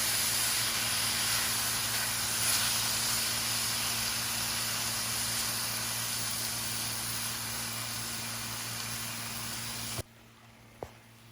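Steak meat browning in a pan for Philly cheesesteaks, a steady hissing sizzle with a low hum beneath, continuing evenly before cutting off near the end, followed by a single faint click.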